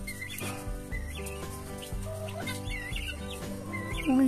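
Several hens clucking on a small farm, close and continuous in repeated short bursts, with music or other tonal sound running underneath.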